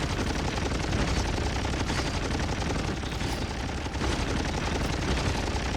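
Vulcan unit in the Stormgate strategy game firing its guns in a battle: dense, continuous rapid gunfire and explosive bursts, loud and unbroken throughout, with no talk.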